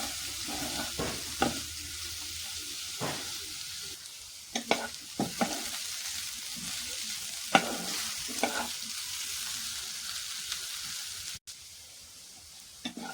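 Onions browning in a frying pan for a village-style chicken bhorta, a soft steady sizzle with occasional scrapes and stirring clicks of a spatula, fairly quiet and with no talk.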